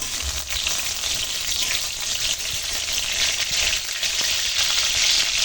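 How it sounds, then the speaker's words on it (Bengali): Whole cumin seeds and dried red chillies sputtering in hot oil for mustard-oil style Bengali tempering, a steady close hiss with faint crackles throughout, no voices. "একটু জিরেটা ভাজা হোক।"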